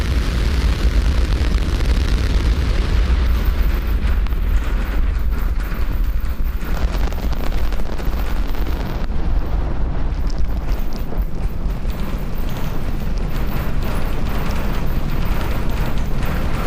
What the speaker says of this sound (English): Lift off Starship.